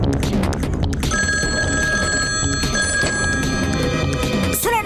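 A cartoon telephone rings with a bright, rapid electronic trill that repeats steadily over background music, ending in a quick swooping effect.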